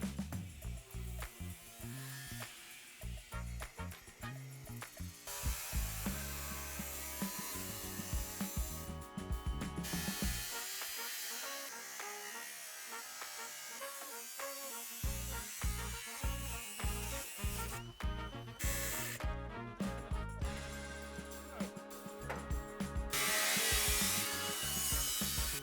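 Power tool cutting through the front section of a Volvo 740 drift car, a harsh buzzing, rasping cut that runs in bursts with brief pauses, loud and close throughout.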